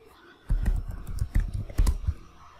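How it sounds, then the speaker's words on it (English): Typing on a computer keyboard during a MariaDB database setup on Debian: a quick burst of soft, close keystroke clicks over about two seconds, uneven in rhythm, with no talking. "Type and hit enter."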